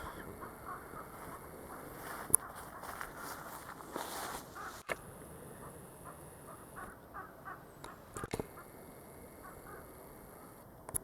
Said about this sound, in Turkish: Vallahi bir karga sesi geliyor.